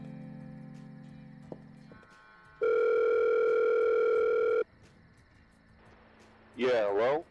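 An office telephone emits steady call tones: a low hum, then a loud sustained two-second dial tone, a quieter stretch, and a short warbling burst at the end.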